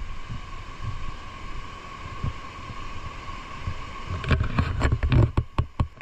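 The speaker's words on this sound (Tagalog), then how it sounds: "Maririnig mo ang malakas pero nakaka-relax na lagaslas ng tubig, parang natural sound therapy" Maranum Falls in a green forest pours down in a loud, steady wash of rushing water. A cluster of sharp clicks and taps rises over the roar near the end.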